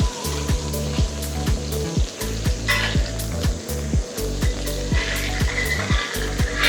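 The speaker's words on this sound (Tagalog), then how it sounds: "let's cook the other hamburger on this thick hamburger plate" A hamburger patty cooks on a thick steel plate at an outdoor camp, a loud, continuous sizzle and spatter with a regular ticking pulse running underneath.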